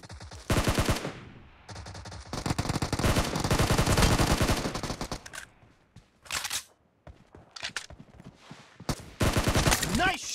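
Gunfire in a shooting video game, rapid automatic bursts in several long strings separated by short gaps and a few single shots, loud and close, with a voice speaking between bursts.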